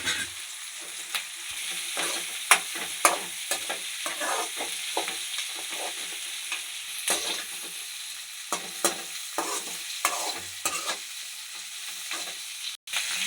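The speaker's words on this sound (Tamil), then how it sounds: "நம்ம கீரி வச்ச பச்சை மிளகா நல்லா எண்ணெயிலே வேகணும்." Green chilies crackle and sizzle steadily in hot oil, with scattered louder pops and the scrape of stirring across the pan.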